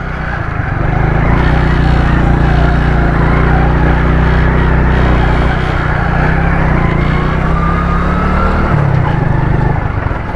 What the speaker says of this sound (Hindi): मट्टी में मोटरसाइकिल चलाना बड़ा मुश्किल है।